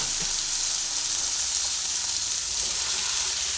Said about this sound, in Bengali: আলু পেঁয়াজ টমেটো সবই অল্প করে ভাজা হয়ে গেছে